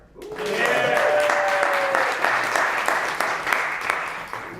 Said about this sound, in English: And a big round of applause for our volunteer today